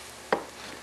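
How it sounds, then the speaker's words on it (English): A knife slices through chili ingredients on an old, recycled bristlecone pine cutting board, giving one short, clear chop against faint background noise. "I'll cut little slices first."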